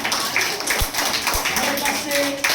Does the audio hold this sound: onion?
no